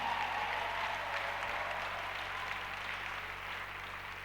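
A church congregation applauds during a sermon, a steady wash of clapping that sounds fairly distant and even, with a low hum underneath, fading slightly toward the end.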